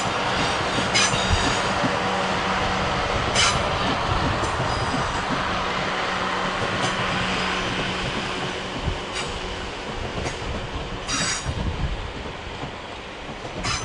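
A passenger train on the Weymouth to London Waterloo service running through Clapham Junction, loud and close, with rumbling wheels, rail clatter and several sharp wheel squeals over a continuous roll.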